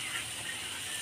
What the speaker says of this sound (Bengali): এখন এই ভাজা মশলা আমি গুঁড়ো করে নেব।